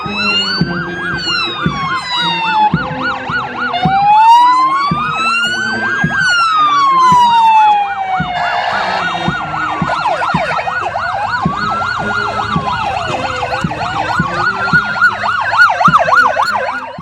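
A convoy of police motorcycles and vehicles passes during a police anniversary ceremony in Turkey, with several wailing and yelping sirens overlapping loudly and continuously alongside road engine noise.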